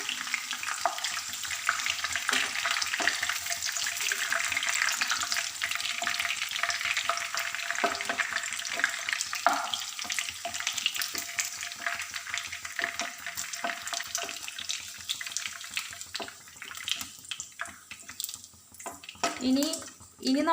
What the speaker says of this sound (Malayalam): ഇനി നമ്മൾക്ക് ഇങ്ങനെ ഓരോ ട്രിപ്പായിട്ട് വറുത്തെടുക്കണം.